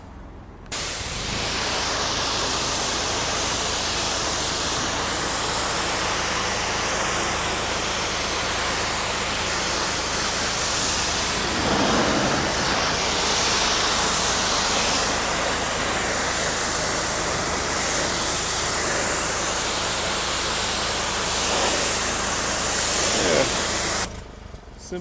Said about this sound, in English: Now we do the rinsing.